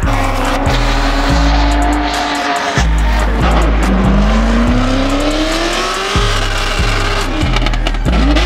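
At an Atlanta car show burnout pit, a drifting car's engine bounces off the rev limiter in loud, rapid stepped pulses, with a rising tire squeal and rough grinding noise close by.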